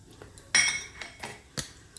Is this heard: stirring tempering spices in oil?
yes